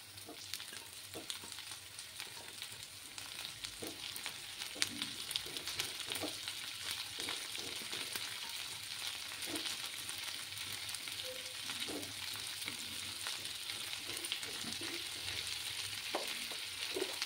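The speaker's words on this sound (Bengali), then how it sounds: "এবার আমি এই পেঁয়াজের মধ্যে আলুগুলো দিয়ে দিচ্ছি" Potatoes and onions sizzle steadily in a pan for a Bengali fish chorchori, a constant bright hiss broken by occasional soft clinks and scrapes as the mix is stirred.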